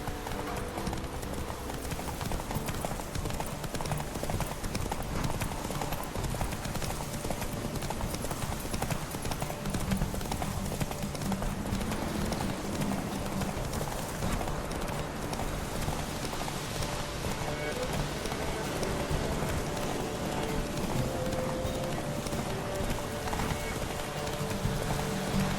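Geralt's horse Roach gallops in The Witcher 3: Wild Hunt during a race, rapid continuous hoofbeats pounding close and loud over a constant wash of rain-like ambience, with occasional voices speaking.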